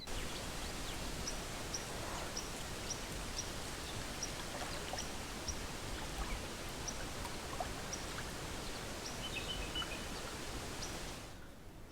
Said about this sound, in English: This is the swimming hole next to camp.